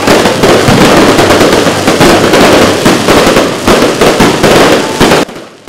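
Fireworks burst loudly and continuously at the Zhupu Pond lantern-lighting ceremony in Zhongzheng Park, Keelung, during the Ghost Festival, a dense crackling barrage of overlapping bangs that cuts off abruptly near the end.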